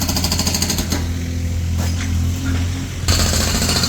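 A jackhammer breaks out rebar-reinforced concrete near sprinkler tanks during a fire main installation, hammering loud and close in sustained bursts with a short pause midway.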